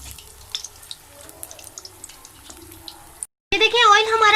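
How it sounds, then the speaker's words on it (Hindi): Fish fries in hot oil in a pan with a quiet, irregular crackle and popping for a few seconds, then a voice starts talking. "ऑयल हमारा गरम था, हमने इसमें फिश अपनी ऐड कर दिया फ्राई करने के लिए"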